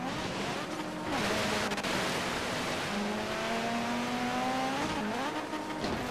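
A car racing along a Hot Wheels track in Forza Horizon 3, engine droning and rising in pitch through gear changes, with steady rushing road and wind noise throughout.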